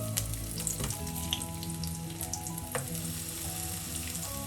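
Vegetables frying in olive oil in a home kitchen, a steady close sizzle with scattered crackles and a brief stirring scrape about a second in, no voices.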